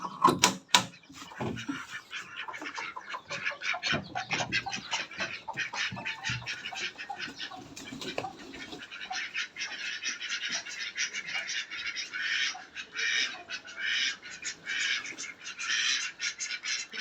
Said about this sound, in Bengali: তো চলেন আমরা হাঁসগুলোকে ছেড়ে দিই।